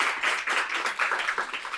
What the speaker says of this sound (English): I really want to have you all give a big round of applause for Natalie from Substract,